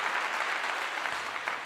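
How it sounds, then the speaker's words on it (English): A burst of rapid hand clapping sounds close and steady, with a crowd-like density and no voices over it. "I give you another clap again."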